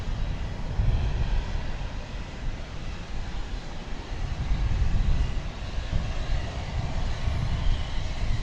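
A jet engine spools up at DFW Airport, a steady broad roar with low rumble that swells and eases over several seconds, heard from a distance outdoors.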